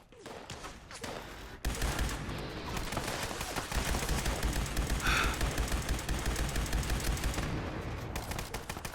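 Explosive enemies blowing up one after another in Fallout 76, a dense rapid crackle of bursts and blasts rattling continuously after a sudden loud onset, with faint talk early on.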